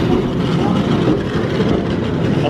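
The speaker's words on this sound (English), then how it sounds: "So here comes the tram." A city tram in Christchurch rolls past close by, a loud steady rumble of wheels and motor holding level for a couple of seconds with no clear clicks.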